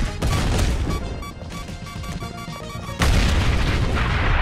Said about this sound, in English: So what you do is lob the bomb.